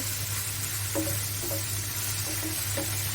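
Malabar spinach with small shrimp fries in a pan, a steady bright sizzle throughout with a few soft scraping stirs over a low background hum.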